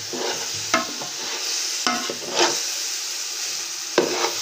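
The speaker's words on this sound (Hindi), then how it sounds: "ये अब देसी घी का तड़का है ये" Steady crackling sizzle of hot desi ghee in a pan while tempering for gajar ka halwa, with a few sharp clinks of a spoon against metal; no one speaks.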